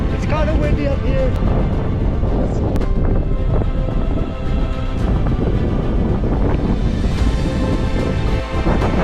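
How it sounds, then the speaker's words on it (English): Wind roars and buffets steadily across the microphone on the 13,300-foot summit of James Peak in Colorado, loud and constant, with voices talking underneath. "It's kind of windy up here."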